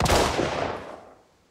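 Gunfire in the shooter game Arena Breakout, likely a sniper rifle: one loud, close, sharp blast that rings out and decays over about a second, with no talk.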